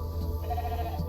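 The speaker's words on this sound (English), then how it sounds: "It's a sheep!" A sheep bleats in The Alters video game, a short, close wavering call over a low steady game hum.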